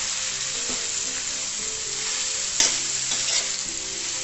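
Finely chopped banana stem sautés in a pan for a pickle: a dense, even sizzle close up, with a few scrapes of the stirring spoon and no voices.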